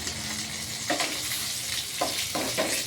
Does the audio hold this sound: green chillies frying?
yes